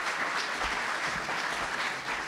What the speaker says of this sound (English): give a big round of applause for our mayor